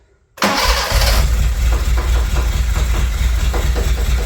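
A Toyota Tercel with a swapped 4A 1.6L engine cranks and fires almost at once, settling into a loud, close, slightly uneven idle with a faint rhythmic pulse.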